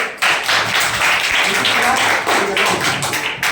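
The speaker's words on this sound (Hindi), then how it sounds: "इसके बाद जोड़ा ताली बजा दो" A class of students clapping in a classroom, a dense burst of many hands applauding together at close range, briefly dipping and swelling before fading out.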